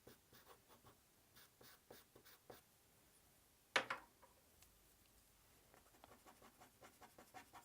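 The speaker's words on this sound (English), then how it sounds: "I'm going to add some of the 2B pencil." A 2B pencil scratches softly across paper while shading an elephant drawing, with quiet rhythmic strokes and one brief louder scrape partway through.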